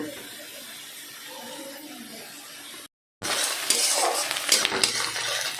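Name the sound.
onions frying and being stirred in pan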